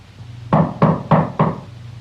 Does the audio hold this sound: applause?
no